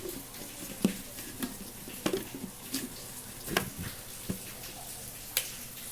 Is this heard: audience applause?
no